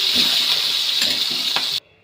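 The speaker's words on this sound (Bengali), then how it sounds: "মাছটা তেলে ছেড়ে দিলাম" Pangas fish fries in hot oil in a pan, a loud, steady sizzle with a few stirring clicks that cuts off abruptly near the end.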